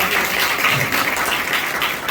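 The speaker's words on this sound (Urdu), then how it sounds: "زور سے تالیاں بجا دیں اس بات کے لیے" A church congregation claps loudly and steadily throughout, a dense sustained burst of applause during a Christian healing service.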